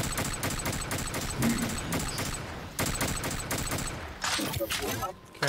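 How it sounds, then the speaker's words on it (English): Dual burst gun firing in a video game, rapid regular bursts of loud shots repeating almost without pause, with a brief break and a final volley. "It's a dual burst gun"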